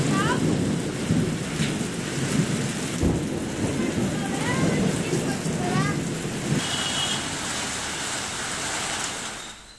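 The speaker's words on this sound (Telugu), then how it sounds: "శ్రీకాకుళం జిల్లాలో నిన్న సాయంత్రం నుంచి ఏకదాటిగా వర్షాలు కురుస్తున్నాయి." Heavy, unbroken rain in Srikakulam district, Andhra Pradesh, with thunder rumbling through it, a dense close downpour hissing steadily for the whole stretch.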